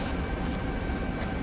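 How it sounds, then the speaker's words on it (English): A military helicopter in a private-military-contractor roleplay video game gives a steady, loud, close rotor-and-engine drone with no breaks. "Everyone gets in the chopper, get ready to support."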